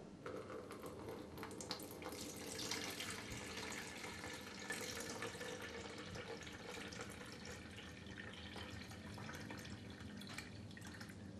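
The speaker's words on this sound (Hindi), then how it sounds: "अब हम फिर से इस बड़े वाले डिब्बे में पानी भरेंगे" Water pours into a large container during a school science demonstration, a faint, steady trickling and splashing stream that continues unbroken with no talk over it.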